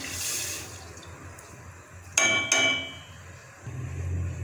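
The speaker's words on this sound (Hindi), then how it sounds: "इसके अंदर हम लोग डाल देते हैं पानी" Water is poured from a glass into a metal pot to start a sugar syrup for halwa, giving a soft splashing trickle with a couple of sharp clinks near the middle. It ends in a low running hiss.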